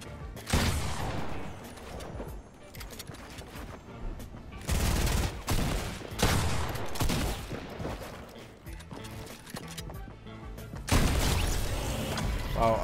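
Rapid bursts of gunfire in a Fortnite battle royale match, loud and close, with repeated volleys and scattered single shots across the stretch, broken by brief lulls and crashing impacts.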